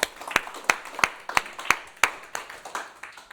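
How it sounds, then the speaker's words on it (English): A small audience at an evening talk claps in thanks, a thin run of sharp, evenly spaced hand claps, close and distinct rather than a full crowd roar. "I'd like to actually give a round of applause to Matt as well"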